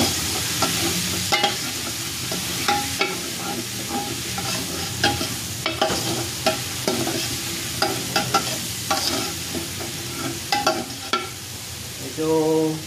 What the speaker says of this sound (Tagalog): pipirituhin muna natin ang yung bawang hanggang sa pumula konti, hanggang sa mag golden brown